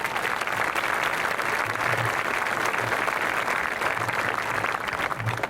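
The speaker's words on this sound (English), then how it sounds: "Please give them a round of applause as well" Applause at a high school Class of 2025 graduation ceremony: a large crowd clapping in a dense, steady roar that holds evenly throughout, with faint murmurs beneath.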